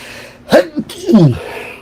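One sharp, close sneeze with a quick intake of breath before it, loud and sudden.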